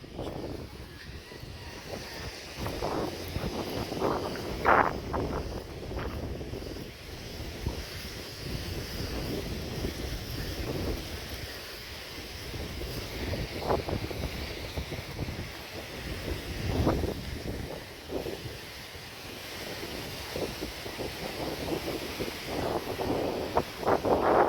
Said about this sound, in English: Whoa, it's so windy.